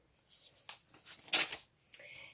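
Paper envelopes holding cards are torn open nearby, with soft rustling and one loud, rasping rip in the middle, followed by fainter crinkling.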